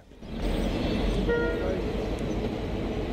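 Passenger train running through the Wairarapa region of New Zealand, a loud steady rumble of carriages with a brief tonal horn-like note partway through.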